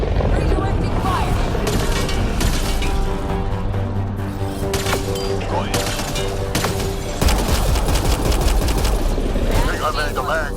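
Sustained gunfire in the Mass Effect Andromeda video game, loud rapid bursts and cracks layered over explosions and battle noise, continuous throughout, with in-game voices speaking over the combat.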